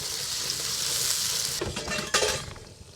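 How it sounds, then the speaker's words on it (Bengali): Masala spices fry in a pan for a Sundarbans tengra fish curry, a bright continuous sizzle that gives way to a few sharp scrapes and clinks of a spoon stirring near the end. "এই হচ্ছে মশলা কষাই কষাইতেছি"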